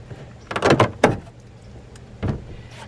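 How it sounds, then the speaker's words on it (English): Small access door on an RV being opened: a few quick clunks and rattles, then a single later knock, close and fairly loud. "first we're gonna open up my little access door"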